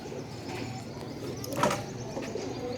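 Pigeons coo softly at a distance, with a brief louder call near the middle against a low background.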